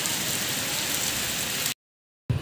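Heavy rain pours steadily outdoors in a dense, even hiss, close and loud, cutting out abruptly for a moment before resuming.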